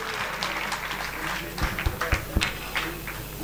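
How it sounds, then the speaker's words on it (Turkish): An audience applauds a presenter at the close of a Turkish folk music night, with steady clapping from a crowd at moderate distance and a few louder claps near the end. "Sunucumuza bu kadar alkış bence yetmez arkadaşlar"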